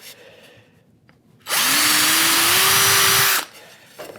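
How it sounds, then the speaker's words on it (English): A power drill bores through wood from the outside for about two seconds, a loud, close whine that rises slightly in pitch as it spins up, then cuts off; quiet room sound before and after. "I'm going to drill from the outside."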